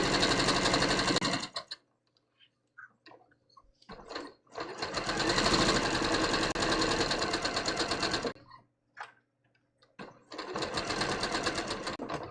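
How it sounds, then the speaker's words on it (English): A sewing machine stay stitches a bias-cut bateau neck blouse in three long, loud, steady whirring runs up close, separated by short pauses with faint handling clicks. "All right, so I'm stay stitching."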